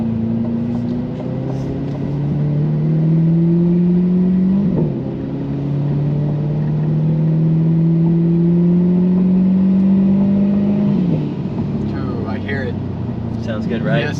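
Twin-turbo C8 Corvette making 1500 horsepower, heard from inside as the engine pulls through rising revs and gear changes, a loud close drone with occasional drops in pitch; voices talk over part of it.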